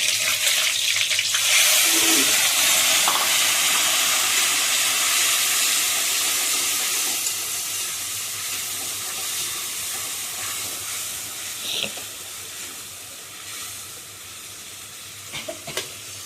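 Spice paste of tomato and garlic hits hot oil with a loud burst of sizzling hiss that slowly settles into a softer steady fry, with a few clinks near the end, and no voices.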